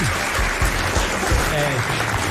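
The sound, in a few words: studio audience applause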